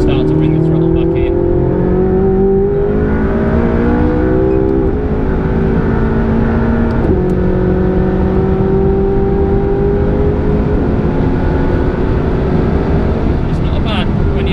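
McLaren 675LT engine on a race track, a loud close in-car drone that rises in pitch under light throttle with a gear change partway, while a driver and passenger talk over it.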